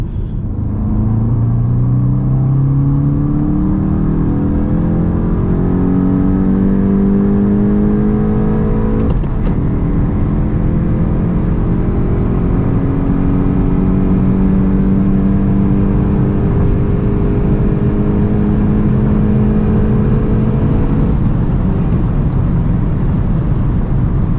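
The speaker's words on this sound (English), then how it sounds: "let's now see how fast the GTI goes from 100 to 200" Volkswagen Golf 8 GTI accelerating hard from 100 to 200 km/h, a loud continuous in-cabin engine drone that climbs steadily in pitch, with one brief gear-shift break midway, over heavy road and wind roar, no talking.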